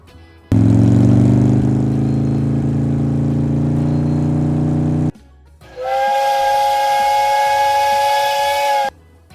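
A steam train gives off a loud, close hiss of steam with a rising tone, then after a short gap blows a sustained, piercing steam whistle for about three seconds.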